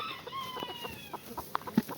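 Short-legged hens clucking in a pen, a run of close, soft chattering clucks followed by a couple of sharper louder notes near the end, no talk.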